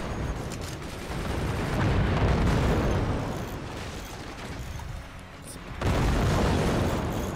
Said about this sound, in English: Oh, here comes another salvo.